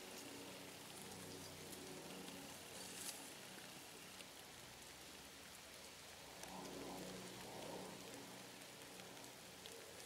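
Steady rain falling in the woods, a soft continuous patter of drops on leaves and ground with no breaks, faint and even throughout with a slightly heavier rush near the middle.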